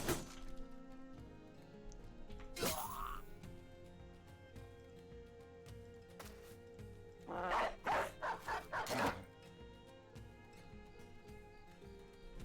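Dog barking in the fantasy battle game Battle Brothers, a rapid burst of several sharp barks midway through, heard over game music and other combat noises.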